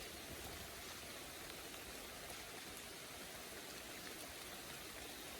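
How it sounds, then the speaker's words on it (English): Rain falling steadily during a fishing outing, a dense even hiss with no distinct drops, very faint and continuous, with no talking. "Raining a lot."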